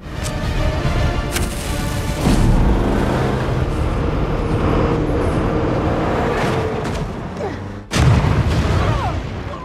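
Dynamite bombs set by gangsters blast inside a road tunnel as an old bus speeds through, loud booming rumbles layered over heavy engine roar, with a sharp burst near the end.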